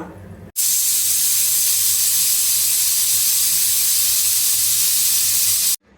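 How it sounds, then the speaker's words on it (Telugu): A pressure cooker boiling vegetables for sambar lets off a loud, steady rush of steam that starts abruptly, holds for about five seconds, then cuts off sharply. "కుక్కర్కి వచ్చేసి 2 విజిల్స్ రానిచ్చుకుంటున్నా"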